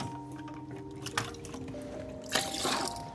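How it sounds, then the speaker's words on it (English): Scoop of rainwater tipped into a Worm Factory 360 worm bin of bedding, a soft wet splash and squishy trickle, brief and close, over a faint background hum. "Get a little scoop out of the rainwater bucket"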